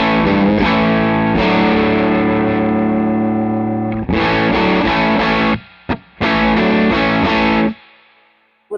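A Strat-style guitar with a humbucker pushed through an LPD Head-On Boost pedal into hard clipping, loud and saturated, sustained chords dropping out briefly with a couple of sharp stabs before ringing off.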